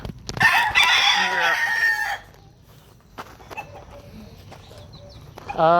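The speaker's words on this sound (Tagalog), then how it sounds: "Marami kami mga alagang manok rito" A rooster crows loudly up close, then quieter clucking and scattered hen calls follow, ending with another loud squawk.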